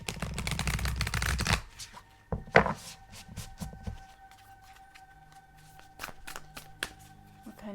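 A deck of Starseed Oracle cards is shuffled in dense riffling bursts for the first second and a half, then gives way to scattered light taps and soft card handling, close and with no talk.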